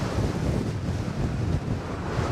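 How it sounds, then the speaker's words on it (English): Strong gusts at Fort Myers Beach roar in a loud, steady rush of wind buffeting the microphone, with a surf-like wash underneath and no talking. "These gusts are like ridiculous, man."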